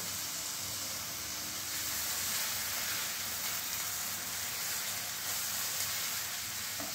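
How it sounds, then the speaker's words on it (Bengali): Chopped ginger and garlic fry in a wok with a continuous soft sizzle and hiss, steady and fairly quiet, with no voices. "এবার আমি আদা রসুন কুচিটা কড়াইতে দিয়ে দিচ্ছি।"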